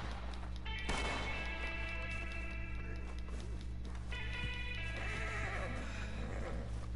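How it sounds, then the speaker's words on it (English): Horse in the video game Red Dead Online whinnies twice, loud and close, with faint hoof clip-clop beneath over a steady low game ambience. "Oh, here's a horse."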